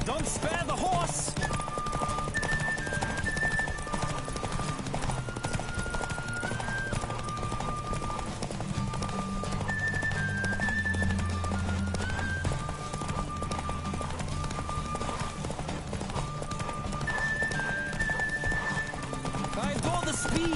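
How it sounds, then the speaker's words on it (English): Galloping horse hooves in The Witcher 3: Wild Hunt, a continuous rapid clip-clop that stays up front throughout, with game music beneath, occasional whinnies and a voice talking at times. "Don't spare the horse!"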